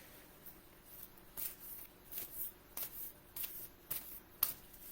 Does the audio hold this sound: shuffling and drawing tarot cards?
yes